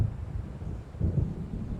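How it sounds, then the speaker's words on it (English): Thunder from an approaching storm in the video game Alan Wake Remastered: a low, continuous rolling rumble that swells briefly midway, then settles back into a steady murmur, with no voices. "It seems there's a storm coming."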